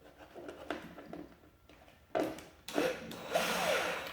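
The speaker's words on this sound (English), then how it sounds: "you don't have to worry about the drilling motion ruining the webbing" A power drill bores through a soft polypropylene plastic sawhorse during a repair, with short quiet bursts at first, then louder grinding spurts building toward the end, close to the microphone.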